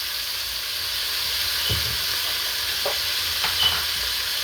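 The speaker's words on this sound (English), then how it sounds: "And then you want to give it a stir." Jerk seasoning stirred into a sizzling pot: a steady hiss of frying with a few soft spoon scrapes and knocks, close and alone.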